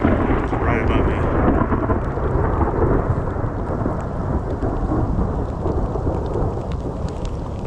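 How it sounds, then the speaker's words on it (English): Thunder rumbles on and on through a spring snowstorm in the Yellowstone backcountry, a loud, continuous low roar that fills the whole stretch without a break. "this is some snow thunder."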